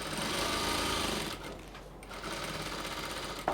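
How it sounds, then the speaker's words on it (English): A sewing machine stitches a dress seam on a bubu dress with a front inverted pleat. It whirs loudly and steadily, pauses briefly midway, then resumes running, with no talk. "Just sew on that line all the way to where you have your mark."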